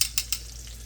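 Breaded chicken for chicken parm fries in a pan of oil at about 350 degrees, with a quick trio of utensil scrapes over a steady low sizzle, all close and brief.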